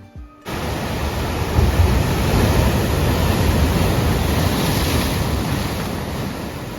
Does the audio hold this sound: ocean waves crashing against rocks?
yes